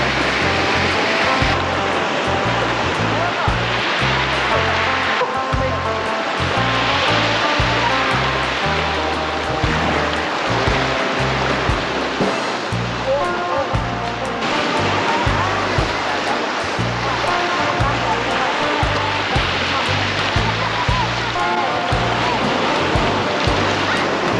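Fresh water from a stream pours into the sea with a steady, loud rush and splash of flowing water over surf, continuous throughout with faint voices in the background.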